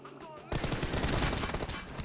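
Rapid gunfire in the mobile game PUBG Mobile bursts in after a short quiet moment, a dense, loud rattle of automatic shots that keeps going to the end.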